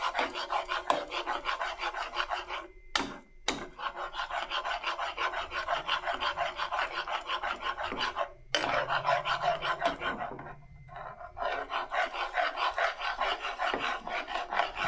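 Milk and milk powder mixture stirred hard in a pot, a continuous close scraping and rasping that runs throughout with brief pauses, loud and alone.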